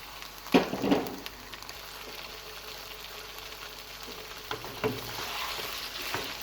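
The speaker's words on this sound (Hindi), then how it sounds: "अब हम इसमें ऐड करेंगे कलेजी।" Chicken liver fries in a pan with a faint steady sizzle, broken by a few louder clattering stir sounds near the start and again later.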